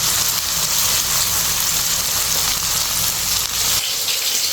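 Tempering for mixed dal sizzles in hot oil: a loud, steady, close hiss runs the whole time and eases slightly near the end.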